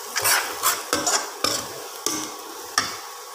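Onion and cumin powder stirred in a pan, with about six sharp spatula scrapes and knocks against the metal at irregular intervals over a soft sizzle, close and unaccompanied by speech.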